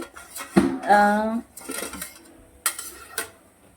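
A cooking pan is handled while making katla fish paturi, with clattering pan and utensil knocks, some scraping and a sizzle in between, loud and close, and a little speech alongside.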